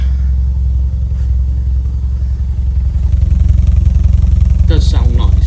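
A 1995 Toyota Celica GT4 engine runs at a steady idle close by, a low throbbing rumble that continues without pause.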